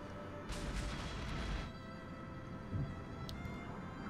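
Mortar rounds exploding in the video game Armored Brigade, a distant rumbling blast lasting about a second followed by a fainter thud, heard faintly over low background noise.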